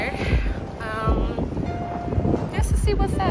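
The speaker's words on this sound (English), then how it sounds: "It's so windy, y'all." Strong wind gusts buffet the microphone outdoors on a night out in town, a steady rumbling roar with louder bursts, mixed with street noise and bits of distant voices.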